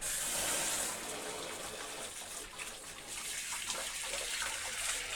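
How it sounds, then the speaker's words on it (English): Hot water gushes steadily from a shower hose into a bath, a continuous hissing spray that stays close and fairly soft throughout, with slight shifts in the flow. "grab your shower hose from your shower, and then gonna want to put hot water on first."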